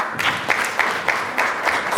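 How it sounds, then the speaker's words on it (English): Applause from an audience at a local government event, a steady patter of many hands clapping fairly near, with a few louder bursts standing out in a rhythmic pulse, no voices over it. "Another round of applause, please, Maharani."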